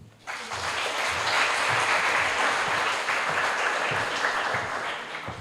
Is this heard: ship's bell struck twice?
no